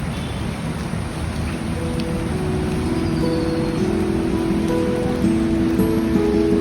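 Steady rain pours down at a cafe in Ciwidey, a dense, continuous patter on surfaces close by, with faint tonal hums running underneath throughout.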